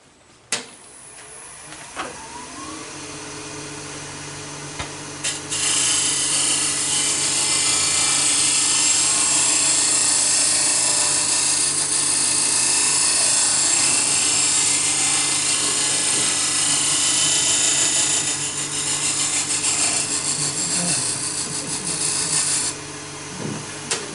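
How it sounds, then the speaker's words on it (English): Negative rake scraper cutting a Japanese-style wooden cup on a lathe, a sustained loud hissing scrape over the lathe's steady hum for nearly twenty seconds, with brief knocks at the start and end. "So what I do is I use negative rake scrapers to get a cleaner cut."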